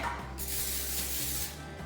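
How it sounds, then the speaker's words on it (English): A steady burst of cooking spray hissing from an aerosol can, nearly two seconds long, close and even, with no voices. "Now we have to spray it."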